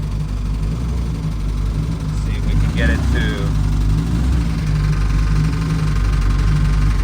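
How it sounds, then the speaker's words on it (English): A small 1959 Fiat-Abarth 750 Derivazione engine idles steadily with a low, even rumble throughout, while a person speaks briefly over it. "Got a very, very healthy and attractive sound to that small engine."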